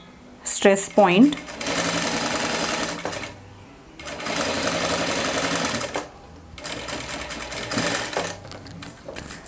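A sewing machine stitches a fabric pen pocket on a DIY journal cover, running in three loud bursts separated by short pauses, starting with a backstitch at a stress point, with a brief voice near the start.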